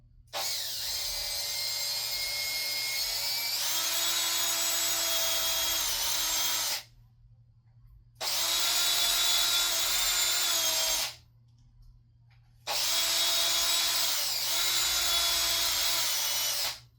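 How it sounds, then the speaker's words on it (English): A small power drill whirs steadily in three long bursts with short pauses between, pitch shifting slightly as it bites into wood, close by. "I could drill that out and put this in there like that. Let me drill this a little bit."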